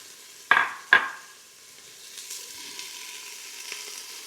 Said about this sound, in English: it's still on the saute setting, so we're just going to keep sauteing these